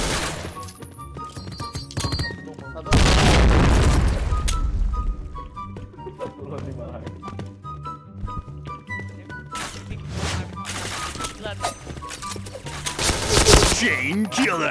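A grenade blast in Point Blank erupts about three seconds in as a loud, broad boom, surrounded by scattered gunfire and game effects across a busy firefight.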